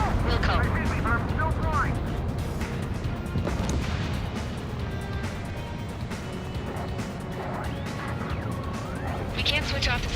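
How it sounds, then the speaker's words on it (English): Explosions and heavy blasts from the video game Ace Combat 7 rumble continuously in a dense, loud wall of noise, with voices talking over the combat. "How many got caught in that explosion?"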